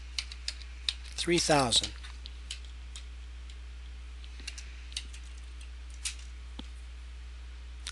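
Scattered, sparse clicks of typing on a computer keyboard, with a brief spoken phrase near the start and mostly quiet keystrokes against a steady low hum.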